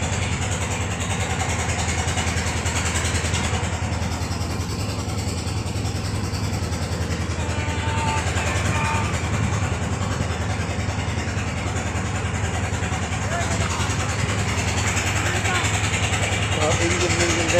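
A stuck boat's engine idles in a steady, close, mid-pitched drone that holds unchanged throughout, with people talking over it.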